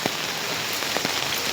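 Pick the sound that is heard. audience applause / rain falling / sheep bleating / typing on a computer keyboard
rain falling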